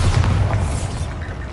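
A Bombarda spell explosion in Hogwarts Legacy: a single deep, loud boom that fills the short moment and then slowly fades.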